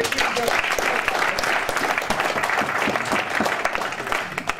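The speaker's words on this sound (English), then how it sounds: "So give him a round of applause." Audience at a mixed martial arts pre-event press conference applauds a fighter after his weigh-in, steady moderate clapping from a small room, with some voices murmuring underneath.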